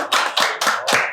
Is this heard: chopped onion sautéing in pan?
no